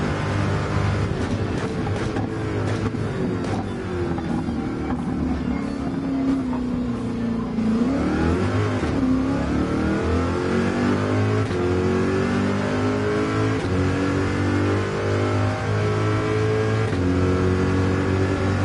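A C7 Corvette engine revs hard through a hot lap in Gran Turismo 7, loud and continuous, the pitch climbing through the gears, dropping sharply on a downshift, then rising again.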